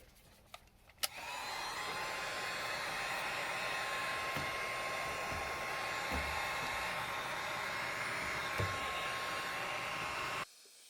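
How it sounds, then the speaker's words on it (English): A Ford E350 van cab gets a heat gun blown over its carpet to form-fit it, a steady loud whirring blower hum with a faint high whine, running continuously for about ten seconds before cutting off. "I'll kind of show you again with the heat gun how that's gonna work"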